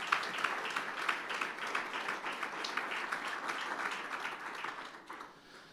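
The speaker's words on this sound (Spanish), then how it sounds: "¿Le das un aplauso al Señor, hermano?" A church congregation applauds during a sermon, claps fairly faint and somewhat distant, rolling steadily before fading out at the end.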